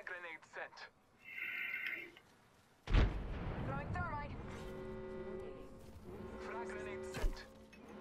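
Grenade in the Apex Legends battle royale shooter, going off as a sudden loud blast with a rumbling tail and a second smaller burst later, while players talk throughout.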